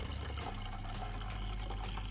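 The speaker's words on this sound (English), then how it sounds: "we're just going to sieve this rice water" Rice water poured through a sieve in a kitchen, a soft continuous trickle and splash of liquid, faint and steady with no talking.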